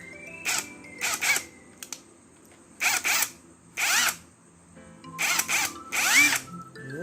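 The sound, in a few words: brushless impact driver running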